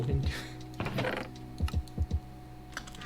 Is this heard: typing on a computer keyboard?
yes